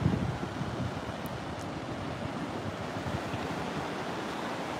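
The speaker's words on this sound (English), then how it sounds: "there's some big waves way out there" Steady roar of ocean surf at Vilano Beach, Florida, at night, with wind buffeting the microphone, a continuous wash of breaking waves with no distinct voices.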